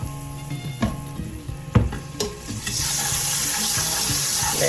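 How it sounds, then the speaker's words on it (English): Several clanks and knocks in a pot give way to a sudden, loud, continuous sizzle as three cloves of garlic hit hot oil for Jamaican curry goat. "Let the garlic burn in the oil."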